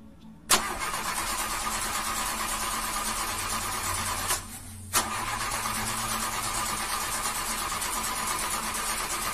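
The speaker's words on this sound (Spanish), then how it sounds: "No arranca, Arturo." A car engine cranks in long, continuous whirring stretches that fail to catch, broken by a brief pause before the starter grinds on again, loud and close with no talk.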